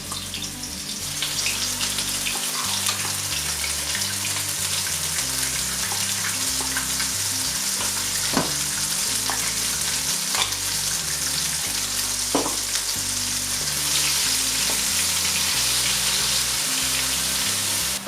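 Masala with onions frying steadily in hot oil for a Palakkad-style Kerala dish, a dense continuous sizzle with occasional utensil clinks and a faint running-tap sound, no talking.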